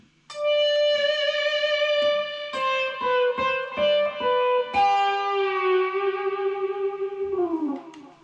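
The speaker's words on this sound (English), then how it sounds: "That's only one Fender amp and distortion, not more than 1 watt." Electric guitar played through a small Fender amp of about 1 watt with heavy distortion, sustained notes and bends ringing loudly and closely with a buzzy, saturated tone.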